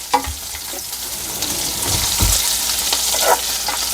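Okra (ladyfinger) with a little salt sizzling steadily in a pan, loud and close, with scraping stir strokes and light clinks from a utensil over the continuous fry, no talk.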